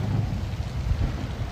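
Rain falls at Huntleys Point in Sydney, Australia, a continuous low, rumbling wash of water, close and fairly loud, with no one talking.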